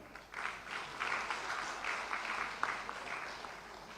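Audience applause fills a hall at a tuberculosis summit, steady clapping from many hands throughout, moderately loud and sustained without a break.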